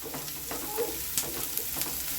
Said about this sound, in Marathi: कांदा आपला आता जरा गोल्डन कलर होईत आला।